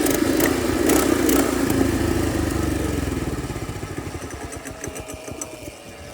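A motorcycle engine bought broken from a farm supply store runs steadily and loudly up close, then its rhythm slows into separate uneven chugs as it stalls and dies out.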